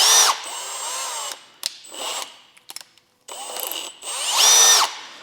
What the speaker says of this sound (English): I'm gonna take our valves and I'm actually gonna put them in the drill.